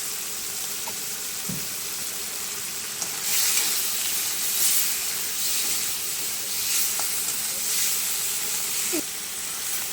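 Salted, turmeric-dusted prawns fry lightly in a pan, giving a continuous soft sizzle and hiss that swells slightly partway through, with a few small pops and clicks.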